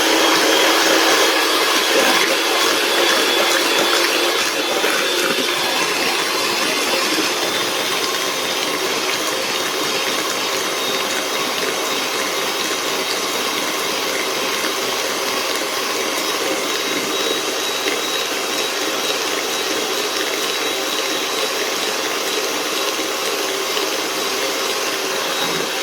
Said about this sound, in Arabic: نضرب كويس